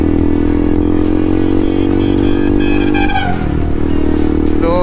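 KTM motorcycle engine on a group ride, droning loud and steady throughout with a low harmonic hum, rising in pitch as the throttle opens, then a brief dip and settle near the end.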